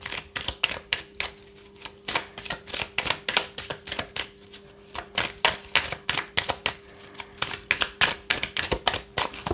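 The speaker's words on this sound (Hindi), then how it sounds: "ओके, कार्ड्स गिरते जा रहे हैं।" Tarot cards shuffled and dropping during a Hindi tarot reading, a rapid steady run of crisp papery flicks and slaps close by, with no voices.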